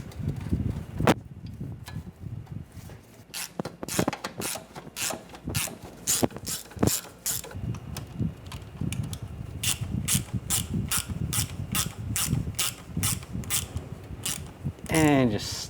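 A ratchet tightens the thermostat housing bolts on a 2009-2013 BMW 328i xDrive with the 3.0L engine. Rapid runs of sharp, close clicks come in bursts, with soft mechanical handling sounds between them.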